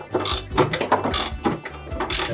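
A ratchet tightens a fabric strap on the spool of a Rail Ryder 2 car stacker, a series of quick metallic clicking bursts in uneven strokes, close and fairly loud.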